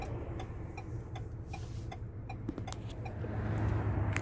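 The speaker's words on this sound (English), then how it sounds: "Blinker, you can tell the blinker's on for sure. It's got a loud blinker to it." Turn signal blinker on a Ford Bronco ticking loudly and steadily, a crisp, regular tick-tock repeating about every third of a second over a low engine hum that swells slightly toward the end.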